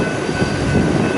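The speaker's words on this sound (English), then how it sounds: "There comes some BNSF 3-bay hoppers, and then 2 flat cars full of wheels." A BNSF freight train with three-bay hoppers and flat cars loaded with wheels rolls past at Fremont, Nebraska, a loud continuous rumble of rail cars close by for a brief moment, with no talk.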